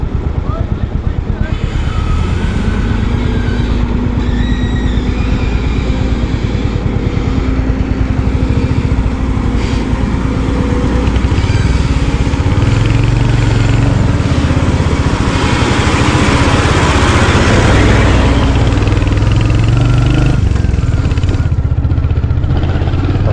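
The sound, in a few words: Royal Enfield motorcycle riding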